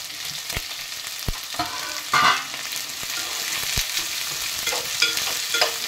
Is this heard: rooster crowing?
no